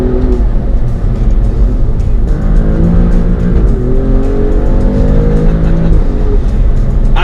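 Alfa Romeo Stelvio Quadrifoglio SUV under way, its engine loud and close with a rising and falling growl as revs climb through gear changes, over constant road and wind roar, and no talking.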